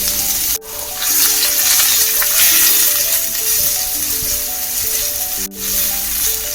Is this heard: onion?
yes